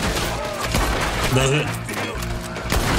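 Gunfire in Red Dead Redemption 2: scattered sharp shots and impacts mixed with game sound, under someone talking throughout.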